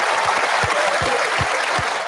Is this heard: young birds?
no